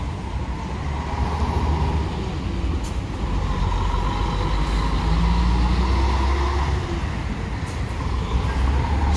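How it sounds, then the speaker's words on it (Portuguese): Intercity buses pulling out of a terminal one after another on New Year's Eve morning, a loud sustained diesel rumble with engine roar and hiss, close and continuous without speech. "Saindo aqui dois carros da Lirabus."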